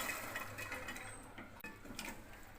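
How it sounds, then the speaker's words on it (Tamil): Water poured into a pressure cooker holding cooked lentils, a steady close splashing pour lasting the whole stretch with a faint metallic clink partway through, no voices. "நம்ம தண்ணி எடுத்து அப்படியே இங்கே சேர்த்துடலாம்"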